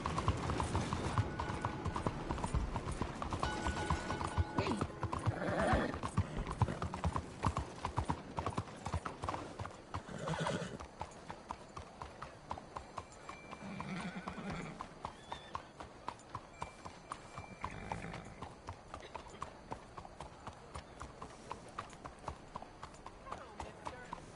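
Steady rhythmic hoofbeats of a horse galloping in the video game Red Dead Redemption 2, continuous and close, with a whinny, game voices speaking, and music under the clip-clop throughout.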